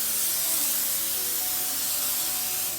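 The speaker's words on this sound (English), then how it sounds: "Pre-foam on the pre-foam because it's nasty." Pre-foam hisses steadily from a sprayer onto a very dirty car carrying more than a year of heavy road grime. The spray is close, continuous and fairly even throughout, with no talking.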